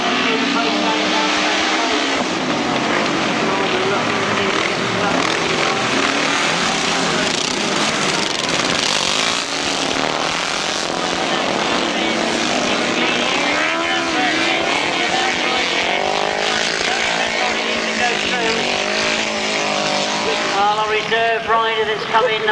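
Grasstrack sidecar racing outfits roar down the back straight at a 1992 meeting in Collier Street, a continuous loud engine drone that rises and falls in pitch, with a commentator talking over it.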